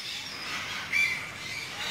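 Pet birds give a single sharp squawk midway, heard over a constant airy background hiss.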